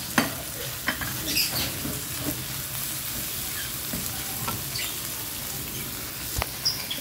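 Grated carrots are stirred and fried in a pan, a steady close sizzle broken by repeated scraping and clicking spatula strokes, with no voices.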